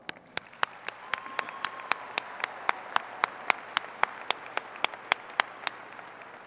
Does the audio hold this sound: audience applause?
yes